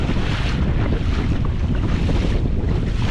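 Strong wind buffets a fishing boat on choppy water, a steady, loud roar of gusts and microphone wind noise with waves slapping underneath, continuous and close throughout.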